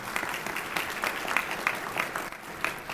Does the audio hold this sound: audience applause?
yes